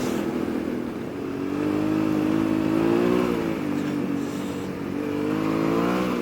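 A motorcycle engine on a trail ride through soft ground, throttle cracked open before a corner, rising and falling in a continuous mid-pitched drone that swells and eases as revs change, fairly close and with no talking.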